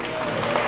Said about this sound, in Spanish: Voy a dar un aplauso para él.